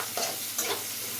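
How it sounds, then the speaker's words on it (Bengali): Chopped onions fry in a hot pan with a steady close sizzle, broken by two short scraping bursts as they are stirred, all within about a second. "এই আমার পেঁয়াজ ভাজা হয়ে আসছে"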